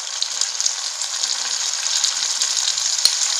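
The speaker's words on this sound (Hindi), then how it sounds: "अब इसी में हम डाल देंगे टमाटर और 1/2 छोटा चम्मच नमक" Tomatoes and salt added to browning onions in a pan, frying with a bright, steady hiss and a single sharp clink near the end, close and continuous without speech.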